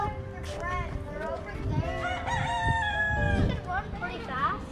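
A rooster crows at a zoo and park, its strained, wavering call rising over nearby children's and adults' chatter and outdoor background noise.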